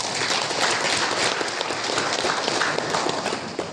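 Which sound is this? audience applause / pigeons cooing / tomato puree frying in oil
audience applause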